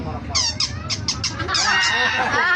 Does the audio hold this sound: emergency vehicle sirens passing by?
no